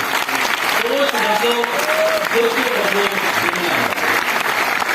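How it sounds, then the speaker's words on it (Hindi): Applause from an audience at a success training event, sustained and dense, with voices talking and calling out over the clapping. "और फिर तालियां होनी चाहिए सभी के लिए"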